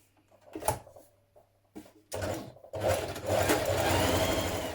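A domestic sewing machine stitches the side seam of a folded trouser leg band in short start-stop bursts at first, then runs steadily and loudly close by.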